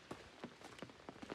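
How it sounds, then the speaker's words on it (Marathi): Rain beginning to fall outdoors near home, heard as soft, scattered drops tapping a surface at an uneven rhythm, faint and close with no talking. "इकडे पाऊस सुरू झाला"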